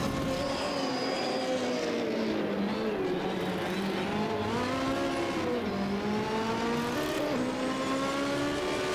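An Opel Ascona 400 race car climbs a hill climb course in the European Hill Climb Championship, its engine loud and continuous, pitch rising and falling through gear changes and corners, with no talk.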